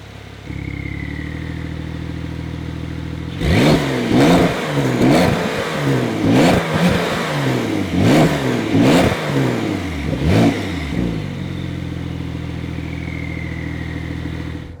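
A 2020 Porsche 911 Carrera 4S exhaust revs sharply about eight times in quick bursts, rising and falling, over a steady idle rumble.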